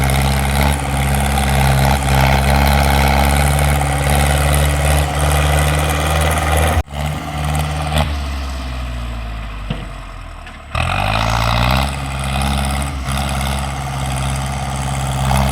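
A Ford 6610 tractor's heavy diesel engine idles with a deep, steady rumble, briefly dropping and wavering in pitch before settling back to a constant chug.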